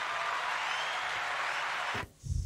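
Applause sound effect on a live stream, a dense burst of clapping and cheering that stops abruptly after about two seconds, followed by a brief thump.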